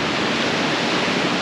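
Running water pours steadily beside a water wheel and sluice gates in the back streets of Treviso, a loud, even, close rush with no breaks and no voices.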